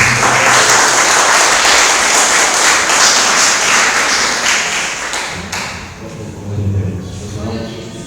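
Congregation applause with rhythmic clapping during a Portuguese-language church service, loud and continuous for several seconds before thinning as a voice and music come in.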